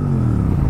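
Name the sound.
Kawasaki ZX-10R motorcycle engine starting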